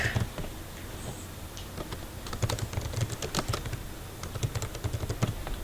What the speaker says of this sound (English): I'm just going to type in textbook.com.